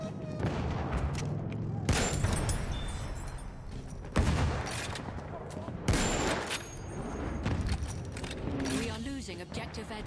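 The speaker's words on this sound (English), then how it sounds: "Machine gun over there!" Machine gun fire rattles through a Battlefield 1 multiplayer battle, a series of sharp bursts and blasts of gunfire mixed with mechanical noise, while voices shout over the fighting.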